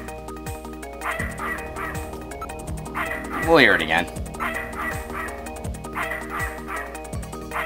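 Dog barking from the video game Snatcher, repeated yips and barks over looping game music and rhythmic beats, with a brief louder burst near the middle and someone speaking over part of it.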